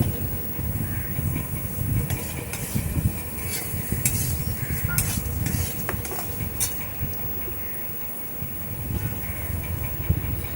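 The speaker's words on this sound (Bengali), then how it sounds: "এই সবজিগুলোকে ভালো করে আমি ভাজতে থাকবো যতক্ষণ না সবজিগুলো সেদ্ধ হয়" Mixed vegetables for a sabudana pulao fry and get stirred in a pan, with a dense, steady sizzle and frequent scraping scrapes of the spatula close up, never stopping.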